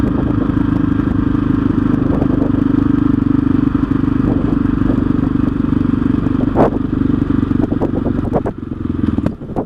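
A KTM 660 SMC single-cylinder motorcycle idling loudly up close with a rough, pulsing engine chug and wind buffeting, its rhythm faltering and dropping away near the end as it stalls.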